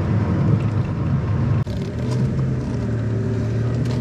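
A flood-damaged Vauxhall Corsa SRi accelerates with a steady engine drone and road rumble heard from inside, a brief dip like a gear change partway through, otherwise continuous and loud.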